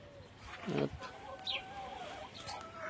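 Chickens clucking while pecking at lettuce in an outdoor pen with geese nearby, a few short clucks and squawks at moderate distance over quiet background noise.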